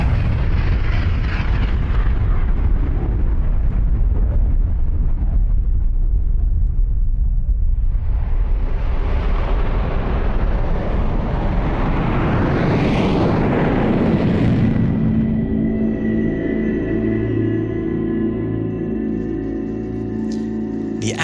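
A huge atomic bomb blast over Hiroshima and Nagasaki is heard as a continuous deep rumbling roar that swells into a sustained billowing surge, loud and without talk, then tapers into a lower drawn-out rumble.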